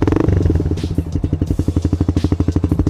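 A Yamaha R15 V2 150cc sport motorcycle engine idles close by, its rapid, even exhaust pulses thumping steadily throughout.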